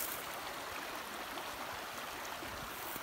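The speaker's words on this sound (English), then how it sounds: "We've got a beautiful little stream right here" A small mountain stream flows steadily at a backcountry campsite in California, a soft even rushing wash that holds constant without breaks or voices.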